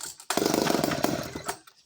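A vintage Clinton D55 chainsaw runs at high revs in a loud, rough, buzzing burst that starts abruptly, holds steady, then drops away near the end.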